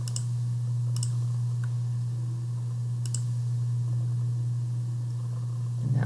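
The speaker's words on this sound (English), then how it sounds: "So I'm going to click all of these." Computer mouse clicks while selecting items in a district assessment setup, a few sharp isolated clicks spaced out over a steady low electrical hum, with no talk.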